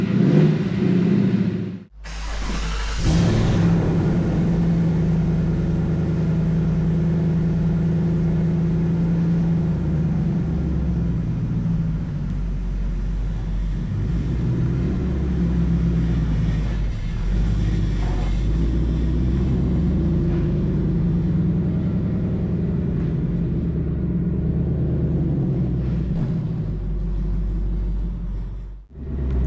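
A rebuilt 2021 Ford Mustang Mach 1 V8 runs while creeping along at parking-lot speed, a deep, steady low rumble close by, with a brief dip near the start and light throttle changes throughout, no voices.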